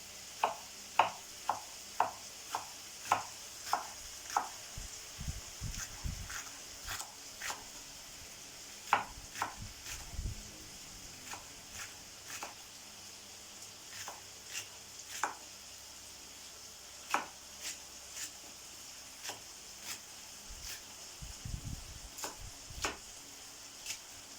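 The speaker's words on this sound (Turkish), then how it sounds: "Şöyle küçük doğrayacağım." Steady knife chopping peppers on a board, crisp rhythmic taps repeating every half second or so, over a faint background hiss, with no talking.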